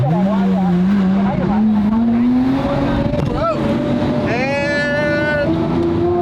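A Lamborghini accelerating on a rutted road, its engine note rising in a long loud sweep from inside the car, with a voice talking over it.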